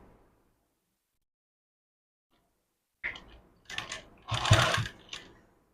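A sewing machine stitches piping along a blouse neckline, starting after a stretch of silence and running in several short, rattling bursts of varying length.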